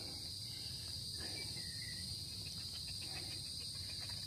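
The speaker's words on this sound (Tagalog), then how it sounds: "Ang mga naririnig nyo po dito, yan ay unin ng mga kuliglig." Crickets chirp in a steady, continuous high-pitched drone, evenly filling the background throughout with faint outdoor ambience beneath.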